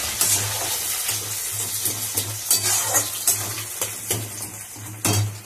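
Onions fry in hot oil with cumin seeds and bay leaf, giving a loud, constant sizzle close by, punctuated by repeated scrapes and clinks of a spoon stirring against the pan.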